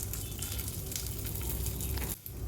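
Garlic and peanuts sizzle steadily in a pan over a low gas flame, a continuous close hiss with faint stirring that breaks off briefly near the end.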